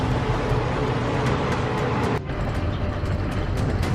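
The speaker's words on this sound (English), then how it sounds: "ignoring the sound of an oncoming train" An oncoming train near a crossing where cattle stand on the tracks, heard as a loud, steady, broadband rumble that fills the whole clip, with a brief dip partway through and no talk.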